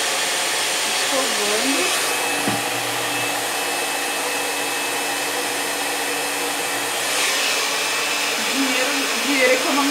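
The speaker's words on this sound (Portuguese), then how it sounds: "no secador morno, tá? No morno, eu venho secando aqui." A hair dryer on its warm setting runs steadily while drying hair, a continuous close whooshing hum that holds for the whole stretch.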